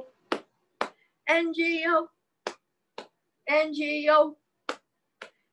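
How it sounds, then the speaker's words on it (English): Two sharp hand claps stand in for missing letters in a children's Bingo song, then a single voice sings the letters, and two more claps follow before another sung line and a final pair of claps. "Two claps."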